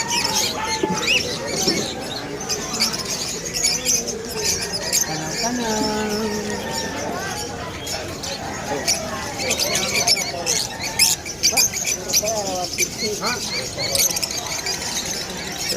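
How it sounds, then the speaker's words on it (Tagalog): Many caged birds at a weekend morning pet market in Malabon squawk, chirp and squeal constantly in a dense, busy chorus, with people talking nearby throughout. "Dami ibon nila Mr. C ngayon"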